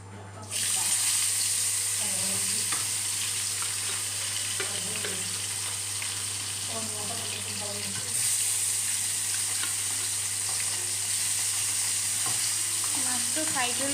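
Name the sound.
fish frying in a pan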